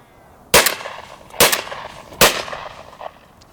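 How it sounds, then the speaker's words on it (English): An ATA Venza Fonex shotgun fires three sharp, loud shots roughly a second apart, each followed by a brief echoing tail, with Hull High Pheasant Extreme 30 gram loads of number 5 shot. "we've got the Hull High Pheasant Extreme, and that's a 30 gram load with number 5 shot"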